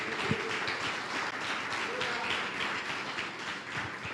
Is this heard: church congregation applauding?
yes